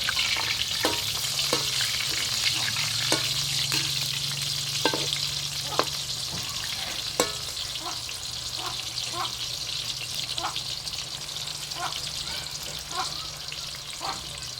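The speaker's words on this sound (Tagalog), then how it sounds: "Pritong talong. Pangalawang salang." Eggplant fries in hot oil in a pan, a dense continuous sizzle broken by sharp pops and splatters, close up with a low hum underneath.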